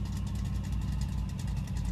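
A 1970 Chevrolet El Camino drag car sits idling, its engine putting out a steady, loud, rumbling low throb with a slightly uneven lope that holds for the whole stretch, with no voices over it.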